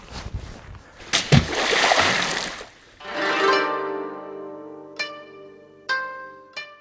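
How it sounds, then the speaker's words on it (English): Shiitake mushroom logs are dropped into water to shock them, making a loud splash and sloshing, followed by several hollow woody knocks that ring out with clear resonant tones as the logs strike. "I like it actually if the log has sort of a decent impact with the water, just to vibrate it and quote unquote shock it a bit."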